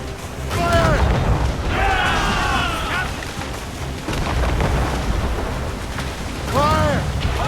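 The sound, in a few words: ship cannons firing at Royal Navy gunboat, video game Assassin's Creed Rogue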